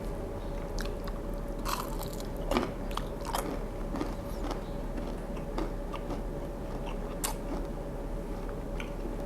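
Crisp bites and crunchy chewing of restaurant-style Kerala beef dry fry, fried in corn starch, with irregular close crunches and clicks over a steady low background hum and no talking.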